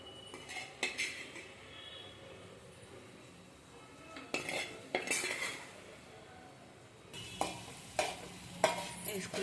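Spoon stirring prawns through curry masala in a pan, with soft scraping and sizzling broken by irregular metallic clinks against the pan, close and fairly quiet, no talk.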